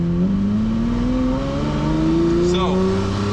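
Lamborghini Murcielago pulling away from a stop in traffic, a loud engine note rising steadily in pitch as it accelerates, close and continuous, with people talking.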